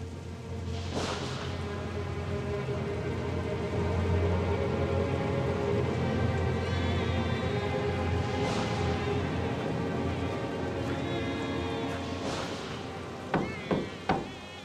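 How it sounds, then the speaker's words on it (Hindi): Steady rain falling outside at night, a continuous even hiss with faint low hum underneath and a few sharp clicks and knocks near the end. "बाहर मत खड़े रहो, बारिश हो रही है, अंदर आ जाओ।"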